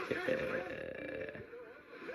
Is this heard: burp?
yes